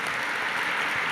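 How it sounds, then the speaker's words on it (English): An audience at a Hubble Space Telescope 25th anniversary tribute gives steady, dense applause throughout the short stretch. "Give them all one more round of applause"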